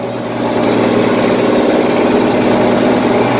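An International Harvester 1586 tractor engine runs steadily at idle, a low continuous rumble with mid-frequency drone, close and loud, with no talk over it.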